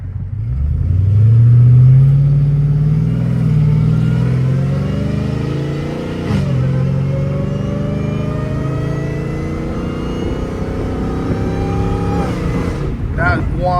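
A catless Dodge Hellcat Redeye revs hard, its deep engine roar sweeping up and easing off, with a rising supercharger whine above it. A voice talks over the engine.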